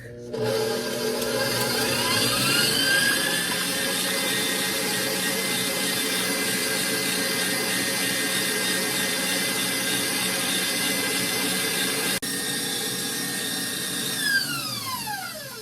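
An electric mixer whips heavy cream with a steady high motor whine that rises as it spins up, running continuously up close with a brief change in pitch near the end.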